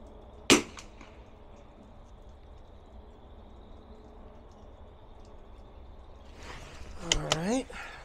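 A single sharp gunshot fired with Midas Plus ammunition at an indoor range cracks loudly near the start, followed by quiet room tone and a burst of brief noise near the end.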